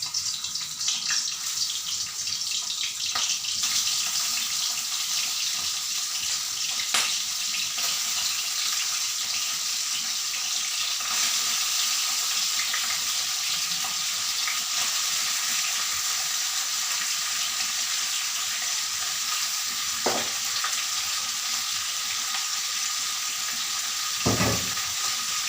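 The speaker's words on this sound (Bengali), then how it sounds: "আমি এখন আমার ভিনিগার দিয়ে মেখে রাখা চিকেনগুলো সব তেলের মধ্যে একটা একটা করে দিয়ে দিলাম।" Chicken marinated in vinegar fries in hot oil in a kadai, giving a constant dense bright sizzle that runs unbroken, with a few faint knocks and clinks and no voices.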